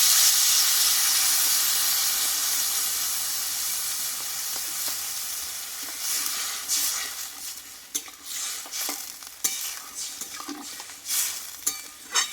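Water poured into frying spice paste for Bengali mung dal, a loud steady hissing sizzle that fades gradually, followed by scraping stirring strokes in the pan.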